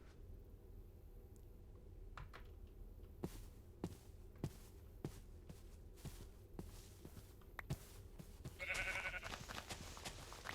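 A sheep in a blocky sandbox video game bleats once near the end, a short nasal cry over a quiet background of soft steps and scattered light taps.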